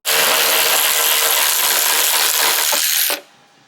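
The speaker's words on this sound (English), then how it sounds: "Let's take this bolt out while we're here." A loud continuous power-tool whine while a bolt is removed from a Land Rover Defender seatbox during rust repair, running steadily for about three seconds and then stopping abruptly.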